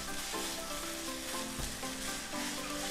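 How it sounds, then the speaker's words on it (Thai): Sugar glaze for crispy catfish stir-fried in a pan, with a dense, continuous sizzle and bubbling close up and the soft scrape of stirring throughout. "ตอนนี้เราต้องพยายามผัด"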